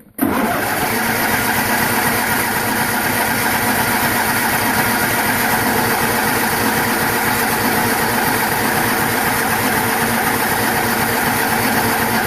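A John Deere 210 lawn tractor engine catches on a cold start and then runs steadily with a loud, continuous, slightly rough idle and vibration, close by and alone for the whole stretch.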